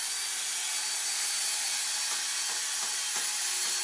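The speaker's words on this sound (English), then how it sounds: "just drill the end of the shaft to get all the glue out" A small drill bit bores into the end of a club shaft to clear out old glue, giving a steady, thin high whirring grind with a few short scraping pulses near the end.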